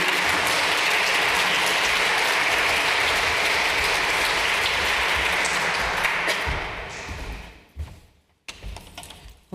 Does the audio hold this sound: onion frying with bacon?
no